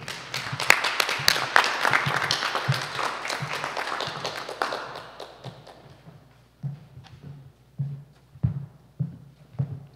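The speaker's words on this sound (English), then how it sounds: "Give me a round of applause" An audience at a library poetry reading claps in a burst of applause that fades over about five seconds, followed by scattered soft taps and thumps.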